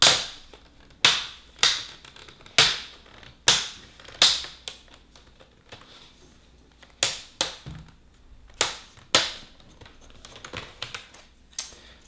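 The plastic screen frame of a Samsung laptop is pried away, giving a series of sharp, close clicks and snaps at irregular intervals, with quieter creaks between them.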